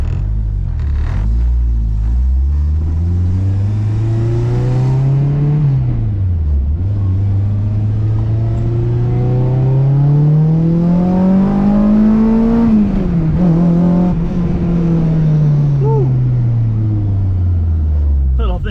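A Honda K-series car drives and accelerates through short gears, its engine droning loudly from inside the cabin and rising and falling in pitch with each gear change, under steady road rumble.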